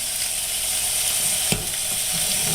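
Beef tenderloin searing in a hot pan, a loud, steady sizzle up close with one brief knock partway through and no speech.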